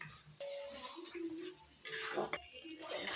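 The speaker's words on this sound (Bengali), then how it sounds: "আবার নেড়ে দিলাম ভালো করে, এই হয়ে এসছে প্রায় কচু শাক।" Taro leaf greens (kochu shak) stirred in a pan on a gas stove, with soft scraping, light sizzling and a few utensil clinks, close and fairly quiet throughout.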